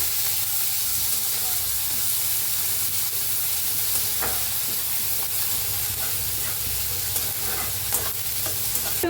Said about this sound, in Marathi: कांदा छान असा भाजला या. त्याच्यात टाकूया टमाटो. 1 टमाटो कापून घेतलं होतं. छान भाजूया.